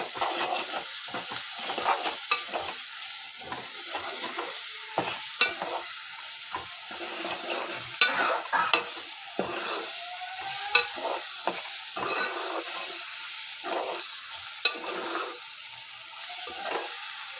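Ginger and turmeric fry in a pan for a prawn tomato curry, giving a low, steady sizzle with scattered spatula taps and scrapes and a few louder knocks, heard close up with no talking.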